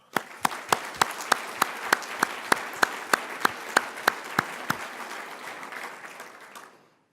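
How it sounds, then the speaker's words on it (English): Audience applause at a community breakfast, a sustained wash of clapping with several sharp, evenly spaced loud claps standing out near the mic before it fades out. "Let's give them a round of applause."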